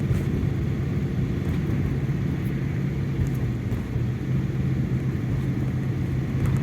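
A car driving along a city street in Yakutsk on a winter evening at around minus 48 degrees, heard from inside as a steady, loud low engine and road rumble with no voices.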